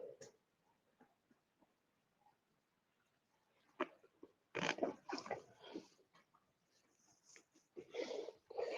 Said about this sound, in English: Got dog in the background